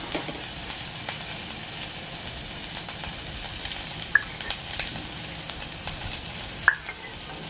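Masala rava poori mixture being stirred in hot oil, giving a continuous close sizzle with soft scraping and two sharp little metallic taps of the utensil against the pan, with no voices.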